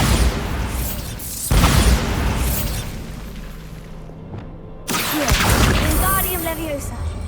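A Bombarda blasting spell goes off in Hogwarts Legacy inside a haunted Hogsmeade shop, bursting with a sharp loud boom and another blast a few seconds later, surrounded by game ambience and a voice speaking.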